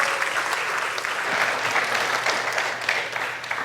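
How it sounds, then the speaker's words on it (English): Audience gives a round of applause to presenters in a classroom-style talk, steady dense clapping for several seconds, fairly close, no speech over it. "let's give you guys a round of applause."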